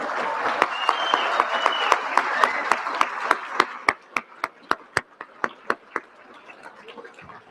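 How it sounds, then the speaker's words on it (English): A crowd at an awards dinner applauds, dense clapping that thins into a handful of loud, distinct claps near the microphone before fading out. "We'll give them one more round of applause"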